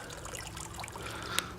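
Water trickling from a garden pond, a soft, continuous babbling burble with faint splashes, quiet and close, with no voices.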